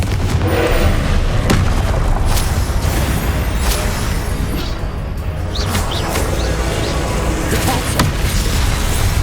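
Repeated Confringo spell blasts in Hogwarts Legacy, loud booming explosions and cracks piling up over a dense, continuous rumble of combat noise throughout.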